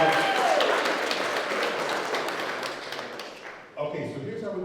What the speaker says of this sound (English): Give us a round of applause for our wonderful heroes, everybody